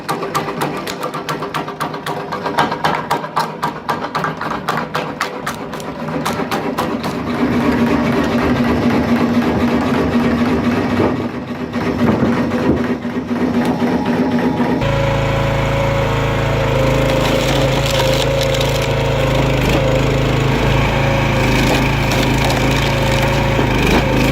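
A homemade firewood-cutting machine driven by a 1.5 horsepower engine spins at 250 RPM, with rapid rhythmic cutting and splintering of wood over a running engine. The sound shifts to a louder, steadier engine drone partway through.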